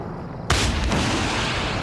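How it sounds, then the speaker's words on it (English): A helicopter goes down in a military video game with a sudden loud crash-like burst that cuts in over quieter background noise, followed by a heavy, sustained rumbling roar. "Chopper down."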